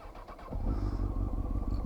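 A Honda 954 Fireblade sport motorcycle with a Yoshimura exhaust fires up about halfway through and settles into a steady, low, rumbling idle, close by.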